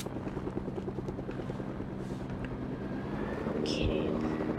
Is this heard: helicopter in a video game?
yes